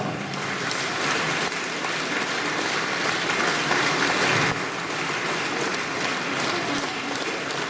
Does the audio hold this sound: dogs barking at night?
no